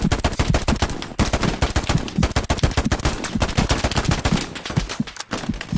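Rapid machine-gun fire in Hell Let Loose, a World War II shooter, rings out in loud, close bursts of sharp shots that continue nearly without a break, with brief pauses between volleys.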